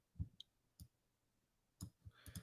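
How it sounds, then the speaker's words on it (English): A computer mouse clicks in scattered, faint taps: a few isolated clicks, a pause, then a quicker cluster of several clicks close to the microphone. "Normally, I don't notice the mouse click, but I'm on mobile in the earbuds, pick up everything."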